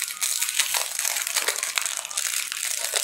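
A Christmas gift package holding a poster is torn open by hand, giving continuous loud crinkling and crumpling of paper and plastic wrap with sharp crackles throughout, close up and without speech.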